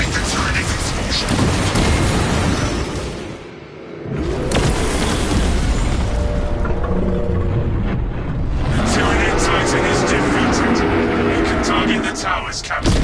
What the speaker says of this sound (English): Avoid the Tyranid's explosion.